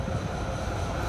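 A green tram, formerly run in Basel, Switzerland, rolls along Maria Luiza Boulevard in Sofia with a steady low rumble and rail noise, continuous and fairly loud throughout.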